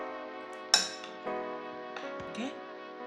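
Dahi bhalla being mixed in a bowl, with a sharp spoon clink against the dish followed by several lighter scraping and clinking touches, close and fairly quiet.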